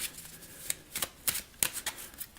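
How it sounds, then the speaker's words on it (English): A deck of game cards gets shuffled by hand, with a quick series of crisp riffling bursts at close range, light and fairly quiet. "I don't have a draw deck, so I need to shuffle these all together."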